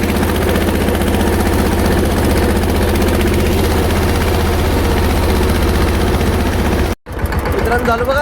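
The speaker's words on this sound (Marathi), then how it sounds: "ट्रॅक्टर लावली बघा घरापाशी" A tractor engine idles close by near a house, a loud steady low rumble with constant vibration that cuts out briefly near the end and then resumes.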